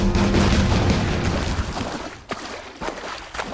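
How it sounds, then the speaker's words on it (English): A grenade blows up rocks in the dinosaur-hunting shooter Jurassic: The Hunted, a loud rumbling boom that fades over a couple of seconds, followed by a few scattered lighter thumps of debris. "I blew up the thing because I wanted to test it."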